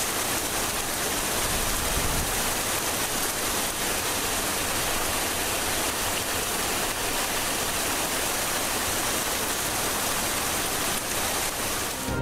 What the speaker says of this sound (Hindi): बलूचिस्तान के शमाली इलाकों में मौसम गर्मा के बाद बारिशों का पहला सिस्टम।